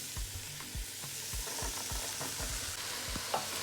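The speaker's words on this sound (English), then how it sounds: "So I'm gonna go in here now and add my black-eyed peas." Black-eyed peas go into a hot pot with cooked-up rice ingredients, and a quiet sizzle follows with repeated scraping and stirring knocks at an uneven rhythm. No one speaks.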